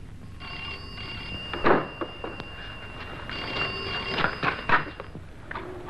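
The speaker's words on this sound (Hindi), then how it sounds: "टेलीफोन।" A telephone bell rings indoors in a 1963 Hindi film scene, a steady electric ringing with louder clattering bursts, heard fairly close with no one talking over it.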